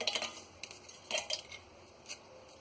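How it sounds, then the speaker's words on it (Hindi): Oreo biscuits broken by hand into a blender jar for a milkshake, giving a few soft crackles and light clinks against the jar, quiet and close, with no talking. "तो एक जार में ये बिस्किट को हम तोड़ कर डालेंगे"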